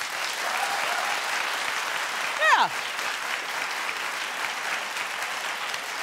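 A studio audience at a daytime talk show claps steadily, a broad, even roar of many hands, while a voice briefly calls out partway through.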